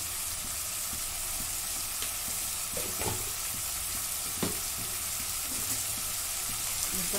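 Mutton curry sautés in a pan with a continuous loud sizzle and frying hiss, broken by a few soft stirring scrapes, with no voices.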